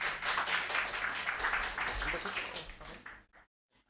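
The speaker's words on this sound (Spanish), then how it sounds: "lo recibimos con un aplauso" An audience applauds a presenter named Alberto being welcomed onto the stage at a MapBiomas Chile event, with a steady burst of clapping and a low hum underneath that fades out and stops near the end.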